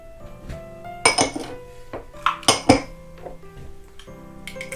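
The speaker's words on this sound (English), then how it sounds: "Now we're going to mix our dry ingredients together." Flour and baking powder are stirred together in a bowl for Christmas cookies, with a utensil clinking and scraping against the bowl in several sharp, uneven knocks over a quiet background hum.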